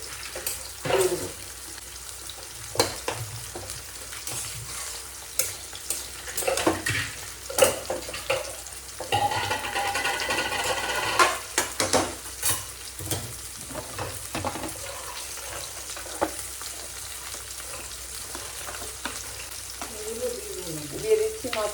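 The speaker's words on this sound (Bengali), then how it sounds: "একটা একটা করে মাছগুলো ছেড়ে দিচ্ছি" Pieces of fish dropped one at a time into hot oil, crackling and spitting in uneven bursts with sharp clatters and a stretch of watery hiss, a voice heard faintly now and then.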